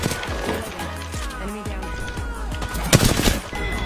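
Rapid bursts of Apex Legends gunfire crackle over a busy mix of in-game sounds, with a louder volley near the end and faint voices underneath.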